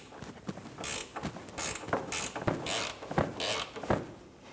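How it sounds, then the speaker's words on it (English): A small ratchet drives a triple square socket on a front ball joint nut of a 2009-2017 Audi Q5, giving a string of close, crisp clicking bursts in an uneven rhythm with no talking. "Taking a small ratchet, we're going to fit our triple square socket on the back end"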